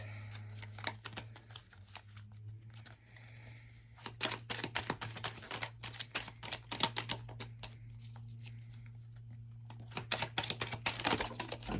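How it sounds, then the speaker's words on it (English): Tarot cards being shuffled and flipped, with bursts of crisp riffling and slapping clicks, sparser at first and denser later, over a steady low hum with no talking. "So I'm going to shuffle a little bit and we'll see what we get."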